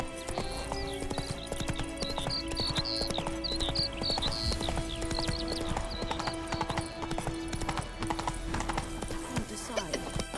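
Horse hooves gallop in a rapid, steady clip-clop rhythm in The Witcher 3: Wild Hunt, with occasional whinnies and game music layered over the continuous hoofbeats.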